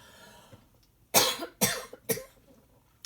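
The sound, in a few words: cough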